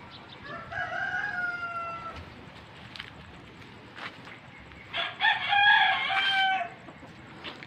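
Large-breed chickens and roosters at a farm, with a rooster crowing early and again louder later, mixed with scattered clucking and fowl calls at moderate distance, no talk.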